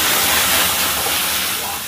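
Tomatoes dropped into very hot oil in a pan, a loud, dense continuous hiss and sizzle that fades slightly toward the end, with no talking.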